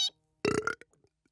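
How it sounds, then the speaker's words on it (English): A single loud, gurgling burp from a cartoon character in the animated kids' series Transformers: Rescue Bots, followed by a few faint trailing sounds. "just practicing for the next burping tournament."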